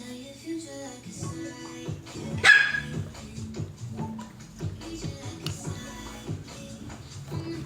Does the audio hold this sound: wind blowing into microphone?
no